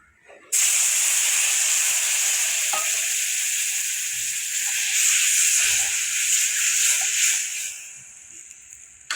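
Semolina lightly frying in a pan gives a loud, steady close sizzle that starts abruptly and runs on with small stirring knocks, then fades near the end.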